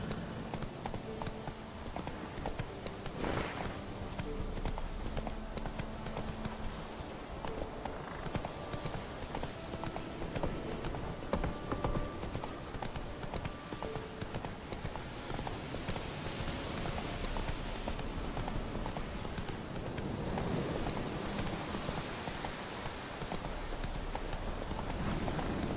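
The horse Roach gallops in The Witcher 3, a long, steady run of rhythmic clip-clop hoofbeats with faint rain-like patter throughout, no talk.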